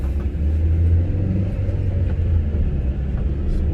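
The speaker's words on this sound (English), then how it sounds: "Let's take a test drive and see how the car is." 2010 Chevrolet Aveo 1.4 DOHC petrol hatchback on a test drive, a steady low engine rumble and road noise heard from inside the cabin, even and continuous with no talking.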